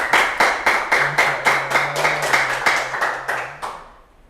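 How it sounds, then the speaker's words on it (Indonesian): An audience at an Indonesian Quran recitation show claps in a rhythmic series of sharp, fairly close hand claps that end with a short fade. A faint low tone runs beneath part of it. "Tepuk tangan dong."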